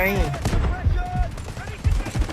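Gunfire in the mobile shooter Delta Force Mobile, several sharp shots in quick bursts mixed with game sound effects, with someone talking anxiously over the shooting.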